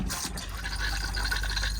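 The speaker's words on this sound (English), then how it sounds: "you'll be able to flush your toilet" Water rushes into the bowl of a Thetford toilet flushing in a Swift Select 184 motorhome, a steady, close, hissing pour that continues throughout with no voices.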